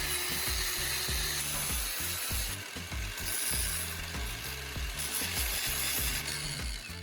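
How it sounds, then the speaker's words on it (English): An angle grinder cuts through the metal handle of a spoon, a steady, loud whine with a dense high hiss running without pause, its pitch dipping and recovering as the disc bites into the steel. "I'm using an angle grinder to carefully cut the marked section of the spoon handle."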